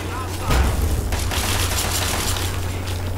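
A Fallout 3 firefight with loud gunfire. A sharp blast opens it, then rapid shots rattle on in a dense, continuous barrage with booming low end, and faint voices sit underneath.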